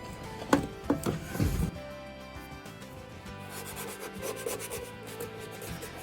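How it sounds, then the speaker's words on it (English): A few sharp knocks open, followed by a soft, steady rubbing that sounds like sandpaper worked back and forth over a teak step on a Hallberg-Rassy 312 sailboat. "Now it's time to sand and finish also this task"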